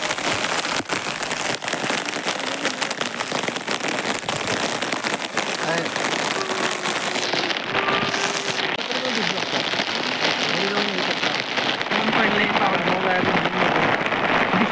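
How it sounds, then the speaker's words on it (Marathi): Steady, heavy rain patters on a hard surface at the foot of Lohagad and Visapur forts, with voices faintly heard under the downpour now and then. "त्या साईडला उन्हात पाऊस पडतो"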